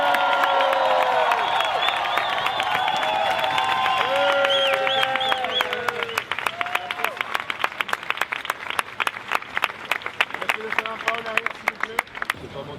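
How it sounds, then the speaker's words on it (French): A crowd at a Paris activist rally in support of the portrait removers bursts into loud, sustained applause and cheering with whoops, then settles into dense rhythmic clapping that continues steadily under faint background voices. "On les applaudit."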